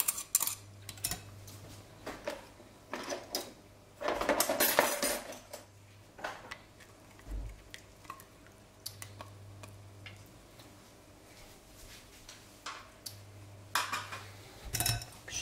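Whole crème fraîche being stirred into a rice pudding mixture, with scattered utensil clinks and scrapes against the bowl, some louder bursts of clatter between quieter stretches and a faint low hum underneath.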